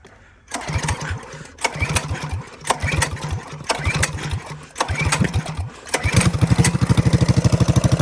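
A small engine with the choke on cranks in several rough pulls, each with a burst of sputtering, then catches and settles into a fast, steady putter close by, loud and with no talking.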